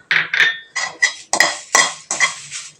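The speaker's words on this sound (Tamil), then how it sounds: "காஞ்ச மிளகா கருவேப்பிலை ரெண்டும் தீயாத சிம்மிலே வச்சு வறுத்துக்கணும்" Dried red chillies and curry leaves dry-roasting in a pan over a low flame, stirred with a metal spoon: a run of about seven close, crisp scraping clinks with short gaps between them, and no voices.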